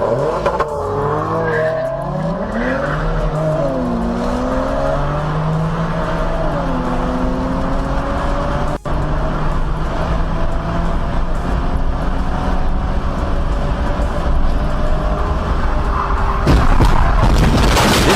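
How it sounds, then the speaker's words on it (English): A car at high speed skids with long wavering tire squeals and engine roar, a sharp thud partway through, then a loud rough crash noise near the end, all close and loud. "This was a nearly unavoidable accident caused by high speed and poor driving skills."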